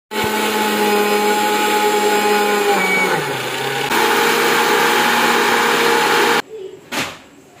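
A mixer grinder powdering Kellogg's cereal runs with a loud, steady whirring roar for about six seconds, then cuts off, followed by a couple of brief clunks.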